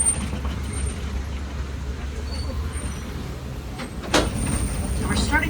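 A safari truck on the Kilimanjaro Safaris ride idles with a low rumble, then an air brake releases with a sharp hiss near the end before the engine noise swells as the truck starts out.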